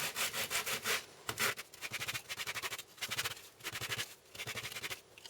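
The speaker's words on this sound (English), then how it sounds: "so if you sand this one" Hand sanding a craft piece, rhythmic scratchy back-and-forth rubbing strokes in short repeated bursts, close but fairly quiet, with no talk.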